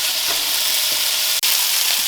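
Chicken fries in oil in a pan for Singapore-style noodles. A steady, close hiss of sizzling runs throughout, with one brief dropout midway.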